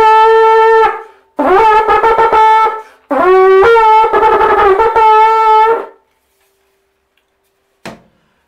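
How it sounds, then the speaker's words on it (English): A Nepalese signaling horn with a folding, telescoping body, blown in three loud, bright, brassy bursts with wavering pitch, then silence and one faint click. "And it's a Nepalese signaling horn."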